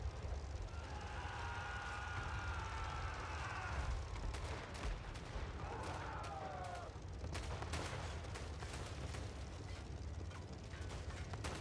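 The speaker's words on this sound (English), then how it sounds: "you can hear the rounds bouncing off the armor" Gunfire rounds ping and bounce off tank armor during a Total War: Warhammer 3 battle, dense rattling volleys of shots sounding fairly faint and distant in a continuous low rumble, with brief whistling tones between bursts.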